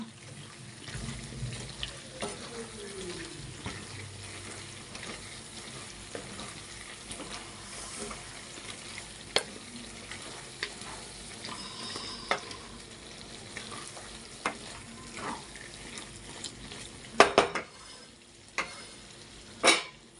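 Village-style country chicken curry with garam masala stirred in a pan: soft scraping strokes under a low sizzle, with a few sharp clicks of spoon on metal near the end, close and fairly quiet.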